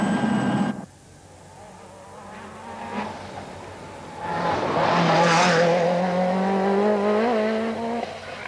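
Group B four-wheel-drive rally car at the 1986 Tour de Corse accelerating hard, engine note climbing through rising revs after a brief lull, loud and close with a raspy, buzzing tone.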